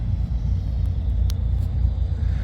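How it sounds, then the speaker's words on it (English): Cars departing a Mopar car show on a Saturday, heard as a steady low engine rumble and road noise from several vehicles, continuous and moderately distant with no voices. "A lot of the cars are leaving."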